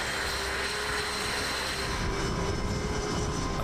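A Navy jet traps the arresting wire aboard the aircraft carrier USS John C. Stennis, a loud, continuous jet engine roar that holds steady and then shifts slightly in tone.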